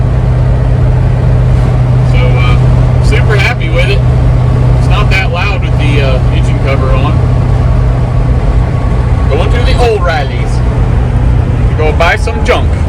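The engine of a 1982 G20 van swapped to an LS V8 drones steadily while cruising down the road, a constant low hum with road noise underneath as people talk over it throughout.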